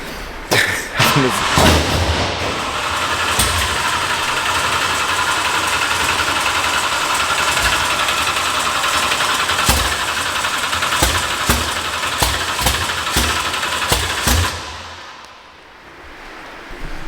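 A drift car's rebuilt engine, with new crank, pistons and block, fires up with a few sharp thuds, then settles into a loud, steady idle for about fifteen seconds before dropping off.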